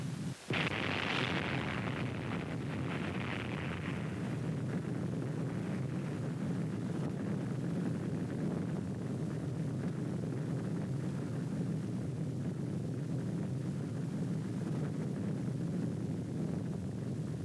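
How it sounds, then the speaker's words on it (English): Bikini Atoll nuclear bomb test blast, heard as a sudden sharp onset followed by a long, deep rumbling roar with wind-like noise that persists for many seconds. "There is the ball of fire, growing and rising above the clouds and smoke of the explosion"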